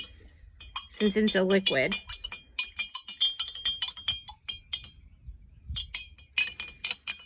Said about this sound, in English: go ahead and stir in that green